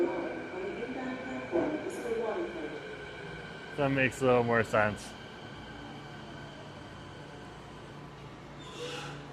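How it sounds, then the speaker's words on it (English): Commuter train pulling into a station near UBC, a steady low rumble and hum with a cluster of brief squealing brake tones midway; a person talks briefly over it. "Okay, here's our bus. Here's our train."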